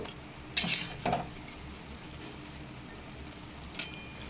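Mourola fish being gently stirred in a poppy seed and sesame paste masala in a pan, with two quick scraping clinks near the start over a faint, steady low sizzle.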